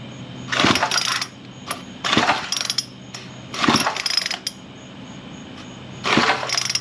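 Old small engine on a landscape cleanup job cranked with the choke on, four separate bursts of pull-start whirring and sputtering, each about half a second to a second long, with quiet gaps between them.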